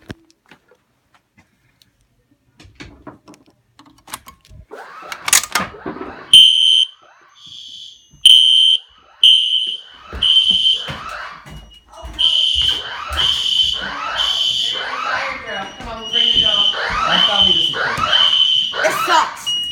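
A fire alarm sounds during a fire drill, with repeated loud high-pitched tonal beeps that come in bursts at first and then grow more continuous, while people talk and move around beneath it.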